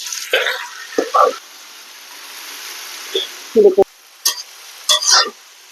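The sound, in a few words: greens added to pan, sizzling and stirred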